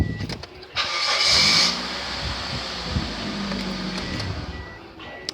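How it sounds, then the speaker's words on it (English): A car engine cranking and catching, a steady mechanical whir swelling and then settling into a running hum, heard close with no talk. "Checking to see if this car is working."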